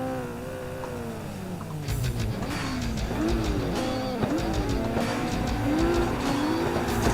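Engine revs rising and falling with sliding tire squeals as a car drifts in the Assetto Corsa racing game, loud and continuous with gear-shift-like pitch sweeps.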